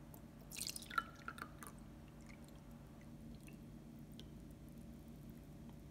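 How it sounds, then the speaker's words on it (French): Water is poured briefly into an opaque cup for a refraction coin trick, a short close trickle and drip in the first couple of seconds, then near silence with a faint background hum. "si je verse de l'eau à l'intérieur"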